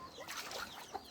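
A chicken clucks softly a few times, faint and brief against a quiet outdoor background.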